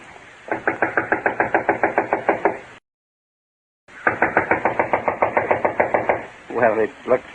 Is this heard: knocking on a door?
yes